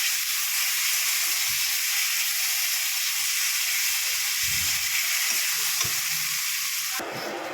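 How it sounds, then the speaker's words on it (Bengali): Spice paste with turmeric and chilli powder sautéing in a pan, a steady loud frying sizzle that runs without a break, with a few faint scrapes of stirring underneath and no talk. "মশলাটা ভালো করে কষিয়ে নেব।"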